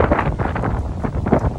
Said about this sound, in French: il y a du vent là. C'est bon le vent sur moi